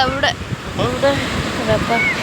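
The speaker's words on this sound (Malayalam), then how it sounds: "ഇതുണ്ട് നല്ല കടല്" Sea waves wash up on a beach at sunset, a loud rushing surf mixed with wind buffeting the microphone, while voices talk nearby.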